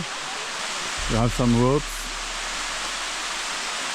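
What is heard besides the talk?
waterfall rushing, Sticky Waterfalls Chiang Mai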